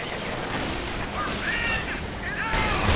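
An anti-tank gun fires in Company of Heroes 2 amid rolling battle noise, with overlapping shots and booms over a busy combat din and faint voices in the mix.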